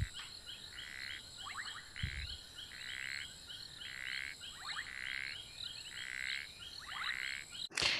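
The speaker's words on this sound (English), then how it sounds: "this is a clip of African painted reed frogs that I recorded many years ago in South Africa" African painted reed frogs call in South Africa, a chorus of shrill, high repeated chirps that pulse in steady groups over constant insect-like background hiss, with faint clicking trills between calls and no voices.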